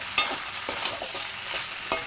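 A spatula scrapes and knocks against a pan as a pre-fried egg is stirred into a sizzling mixture. The close strokes come in quick, uneven succession over a constant frying hiss.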